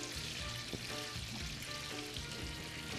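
Seafood and shrimp sizzling in a hot pan at a cooking demonstration, a steady, close hiss and crackle of frying that runs the whole clip without pause.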